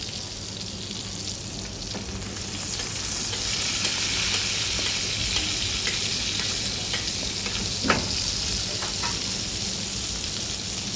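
A 1 cm steak sizzles loudly and continuously in a frying pan, a close crackling hiss with scattered pops and one sharper spit midway, alone without talk.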